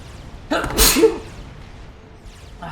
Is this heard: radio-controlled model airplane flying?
no